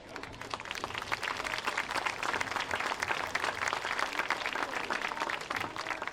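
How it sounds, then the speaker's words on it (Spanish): A crowd at a bagpipe band gathering in Castrillón applauds the band's director, with continuous, evenly sustained clapping at moderate volume from start to finish. "un aplauso para él"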